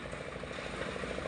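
A concrete mixer's engine runs steadily at a house construction site in the Philippines, a loud continuous mechanical drone with rattling clatter throughout and no talk.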